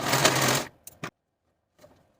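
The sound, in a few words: serger sewing machine serging a V-neck binding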